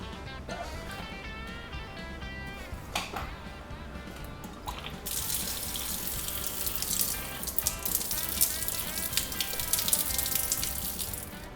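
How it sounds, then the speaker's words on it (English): Water drains out of house piping through an open irrigation valve. Steady trickling and dripping runs throughout and grows into a louder, hissing gush partway through, with no talking. "the water that you just saw was drainage from the piping in the house that's still draining out of the sinks and the faucets up above"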